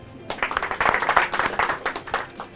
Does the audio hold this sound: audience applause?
yes